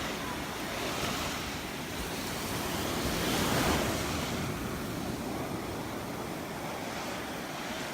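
Ocean surf rolling onto Crystal Beach in Destin, Florida, a steady broadband wash of waves with a gentle swell peaking midway, mixed with light wind buffeting the microphone and no talking.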